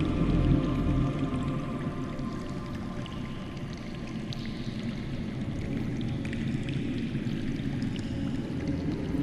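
Underground water in a Game of Thrones video game, a low, steady rushing and gurgling flow with a deep rumble throughout, and no talk.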